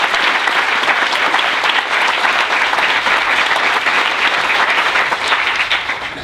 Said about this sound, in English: One more round of applause for Brian and Drew.